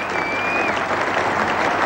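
Cricket crowd at Lord's rises to its feet and applauds Derek Randall at an England v India Test match, 1982, a dense, steady roar of clapping, with faint voices and a whistle in the mix.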